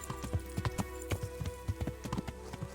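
Steady clip-clop of horse hooves in a video game, an even trotting rhythm of sharp knocks over a constant low background hum.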